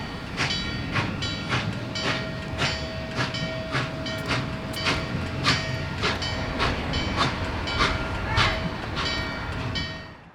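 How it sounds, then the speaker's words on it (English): Norfolk & Western 611 steam locomotive pulling into East Strasburg Station on the Strasburg Railroad, with steady rolling rumble, rhythmic clanking of cars and a long sustained whistle-like tone running through the scene. "we made our way down to East Strasburg Station to watch the train pull in."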